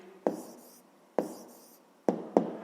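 A pen jotting an answer on paper: two crisp strokes followed by a quick cluster of three more, close and fairly quiet, with no voices.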